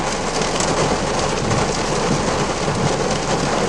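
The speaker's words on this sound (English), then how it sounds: "It is raining pretty hard right now." Heavy rain pounds a car windshield during a lightning storm, a dense, steady, loud hiss and drumming with no pauses.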